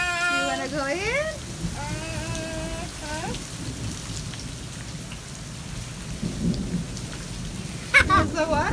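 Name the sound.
rain falling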